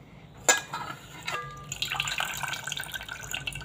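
Tap water runs over fresh coriander leaves as they are washed in a kitchen, with a splashy knock at the start, then a fluctuating stream of water and rustling, close and fairly quiet.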